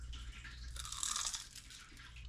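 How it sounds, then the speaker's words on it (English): Crunching bites of crispy potatoes, a dense burst of crisp crackle peaking mid-clip over a low steady hum, close and moderately loud with no talking. "You hear that crunch from over there?"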